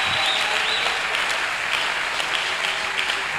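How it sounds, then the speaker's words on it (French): A church congregation applauding loudly, dense steady clapping that fills the space without a break, close and sustained with no talk over it. "Je veux que les amoureuses de la prière acclament très fort d'abord pour le Saint-Esprit."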